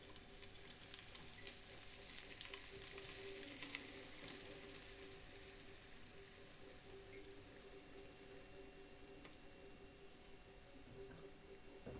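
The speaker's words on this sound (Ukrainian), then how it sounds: "І будемо потрошки її піджарувати" Flour frying slowly in leftover oil and meat fat, a soft continuous sizzle with faint crackles that stays steady and low for the whole stretch, with no voices.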